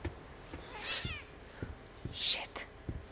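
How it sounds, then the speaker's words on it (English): A cat in the video game The Medium gives a couple of short, drawn-out meows, separated by soft thuds like footsteps in a quiet game scene. "Damn cat."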